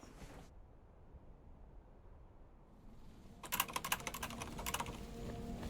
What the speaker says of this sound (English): Oh god, Fury is typing.